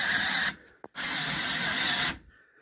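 An old DeWalt cordless drill drives a Harbor Freight worm gear drive to raise the head of a Hud-Son Hunter sawmill, giving a loud steady whirring run, a brief pause and a second longer run before stopping.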